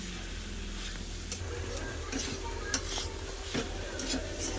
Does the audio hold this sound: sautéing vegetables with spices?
yes